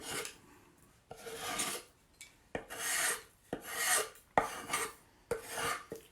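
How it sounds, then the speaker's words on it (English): Repeated rasping strokes as chippy paint is scraped off waxed wood, about eight close, rhythmic scratches, each a short burst of gritty friction separated by brief pauses. "You can scratch as much as you want to away."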